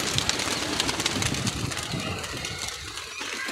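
Pigeons coo softly amid a dense wash of noise, with fluttering and rustling close by and a low rumble underneath.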